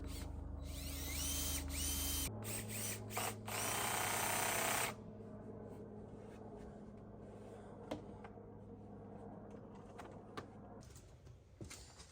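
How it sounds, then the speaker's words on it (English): A power drill drives screws into the tabletop of a simple wooden mobile workbench, with loud whirring bursts up close, then quieter clicks and handling noises on the bench. "finally start to screw on the tabletop as well"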